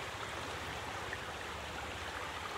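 Stream of water flowing outdoors in the Pielachtal valley of Lower Austria, a steady close rushing babble with constant even level and no voices.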